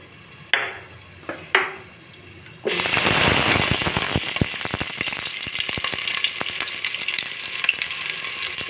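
Spices dropped into hot oil in a pan, a few soft knocks at first and then a sudden loud, crackling sizzle with sharp pops that stays close and continuous, settling slightly as it goes.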